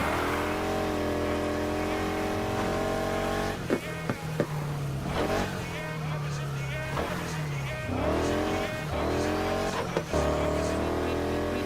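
1965 Ford Mustang in Need for Speed Heat, its engine droning steadily, then revving hard through repeated upshifts, with short tire squeals and whooshes, loud and close, with a voice heard briefly over it.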